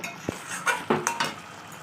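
Chili prawn curry is scraped and poured out of a metal pan, with a few clanks and spoon scrapes over a soft, lingering sizzle, close and without talk.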